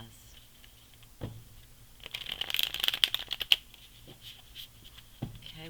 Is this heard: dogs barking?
no